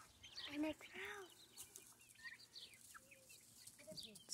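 Chickens clucking in a morning farmyard shared with ducks and turkeys, a few soft clucks and calls close by, quiet and intermittent.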